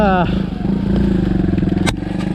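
A Suzuki DR200 motorcycle riding offroad, heard as a close, pulsing single-cylinder engine chug with a brief rev at the start and a sharp clatter near the end.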